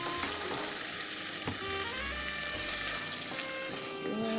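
Vegetables fry in a little butter with seasoning in a home kitchen, giving off a soft, steady crackling sizzle with occasional light clinks from a utensil.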